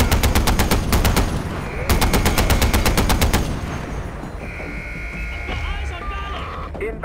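Sustained bursts of rapid automatic fire from a mounted gun in Far Cry 4, loud and close, with two long volleys followed by quieter mechanical whine and battle noise.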